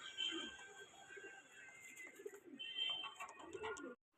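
Domestic pigeons from a home breeding pair coo softly and steadily at close range, their low, rolling calls repeating throughout with a faint chirp near the end.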